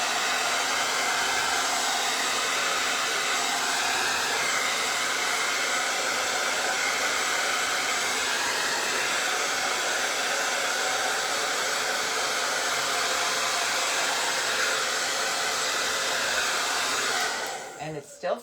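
A hair dryer blows steadily on Pink Pixie Meltdown sealer during a tabletop beehive craft, a constant loud whooshing whir that runs unbroken and cuts off near the end.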